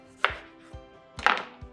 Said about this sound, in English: Last, cut your lime in half.